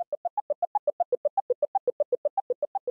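A sine wave synthesizer arpeggio in Ableton Live plays a quick, steady run of about two dozen clean, pure tones stepping between nearby pitches, clear and close with no voices.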